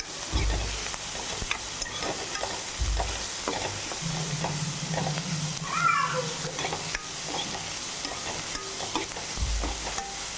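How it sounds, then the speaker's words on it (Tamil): Vegetables sauté and sizzle in a pan for a Tamil adai batter, a steady close frying hiss broken by scraping stirs of a spatula against the pan. "சும்மா லைட்டாக ஒரு பத்து நிமிஷம் வதங்கினாலே போதும்"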